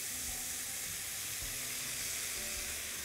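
Food sizzles steadily in a wok just lifted off the flame while making pizza bites, a dense continuous frying hiss close by with no voices.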